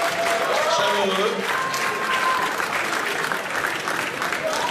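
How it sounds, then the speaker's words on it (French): Warm, sustained applause from a poker awards audience, dense clapping filling the room at close range with some voices mixed in. "Ça mérite encore quelques applaudissements chaleureux."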